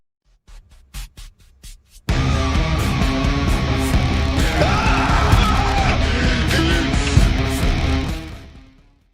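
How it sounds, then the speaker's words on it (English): A video game, DOOMED, screams loudly at first boot: a few short bumps, then a sudden sustained, harsh, very loud yelling roar that holds for several seconds before fading out. "it ear rapes you by screaming at the top of its lungs when you first boot into the game"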